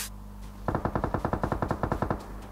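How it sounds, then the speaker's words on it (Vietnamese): A video game shootout erupts in a rapid automatic burst of roughly sixteen close, evenly spaced gunshots that stops abruptly after about a second and a half, with no talking. "sao đang bắn nhau rồi"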